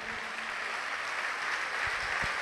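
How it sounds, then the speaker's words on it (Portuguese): A church congregation applauds during a sermon, a steady wash of many hands clapping at moderate volume with no voices over it. "Vamos aplaudir o Senhor."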